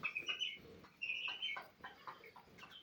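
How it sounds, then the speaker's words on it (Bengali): Twelve-day-old broiler chickens give faint, scattered high peeps and soft chirps, several overlapping calls rising and falling over a low background hum, with no talking. "দেখতে পাচ্ছেন ব্রয়লার মুরগি"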